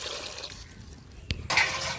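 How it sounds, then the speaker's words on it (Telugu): Water is poured jugful by jugful into a cooking pot on a wood-fired stove, a close, splashing rush of liquid with a brief burst near the middle and heavier pouring toward the end. "ఇంకో చెమ్ము పోసుకుందాం అండి నీళ్ళు నాలుగు చెమ్ములు నీళ్ళు"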